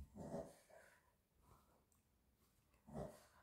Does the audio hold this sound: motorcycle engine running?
no